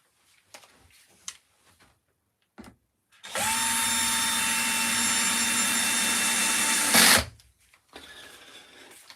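A power drill used for woodcarving spins up and runs at a steady, loud high-pitched whine for about four seconds, then stops, with light handling clatter and shuffling before and after.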